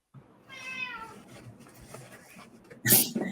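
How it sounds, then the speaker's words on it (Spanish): A cat meows in a drawn-out, wavering call near the start, followed by a louder, sharper cry toward the end, with a faint room background between the calls. "Geo, ¿qué le pasa al gato? El gato está, que es Géminis y no puede parar de hablar"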